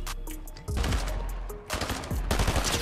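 Suppressed gun firing in the video game Fortnite, rapid bursts of muted shots in two volleys over a steady game background, close and fairly loud.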